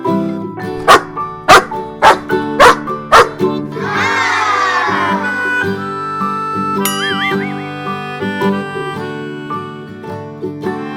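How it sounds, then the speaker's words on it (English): A dog gives a quick run of sharp, close barks, then a musical backing track with tinkling sounds continues. "D for dog."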